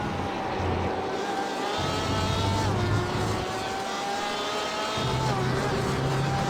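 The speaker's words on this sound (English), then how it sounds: "the engine sound of this Porsche is just too damn loud" A Porsche GTE race car engine in a sim racing game at Road America rings out loud and steady, with shifting tonal whine and gear changes throughout, heard alone without talk.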